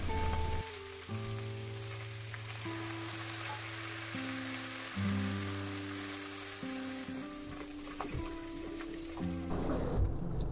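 Chopped onion sizzles in hot oil with cumin seeds and dried red chilli for a gram flour curry, a steady close frying hiss with a few clinks of stirring.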